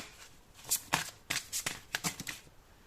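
Tarot cards are drawn and handled up close, giving a series of crisp riffling and sliding card sounds in quick uneven bursts.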